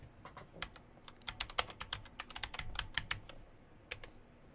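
Computer keyboard typing, a quick uneven flurry of close, crisp key clicks, faint overall, with no voices.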